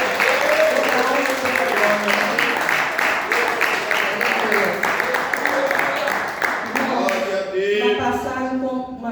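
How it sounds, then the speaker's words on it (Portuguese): Church congregation clapping hands together in steady praise, a dense continuous patter that fills the room, with voices singing or calling out over it before it thins toward the end. "Os irmãos glorificam o Senhor com as palmas"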